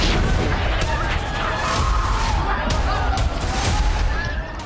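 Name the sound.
artillery fire and bombing in Syria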